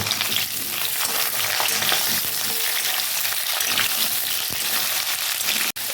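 Drumstick stems and green banana frying for shukto, a dense, loud, continuous crackling sizzle close by with faint stirring, no one talking.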